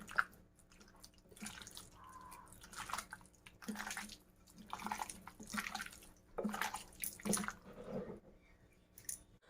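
Chicken being mixed by hand with spices and yogurt for a butter chicken marinade, producing soft wet squelching and squishing bursts at irregular intervals, quiet and close, with no voices.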